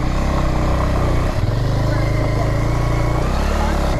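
A motorcycle climbs uphill on the road to a waterfall and dam near Bangalore. The mid-pitched engine drones steadily and close throughout, dipping briefly as the throttle shifts, with voices mixed in over the engine.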